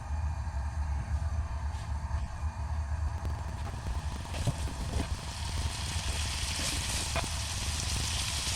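Spiced onions flattened into the bottom of a hot pan give off a steady, even sizzle that holds at the same level throughout, close and unbroken, with no one talking.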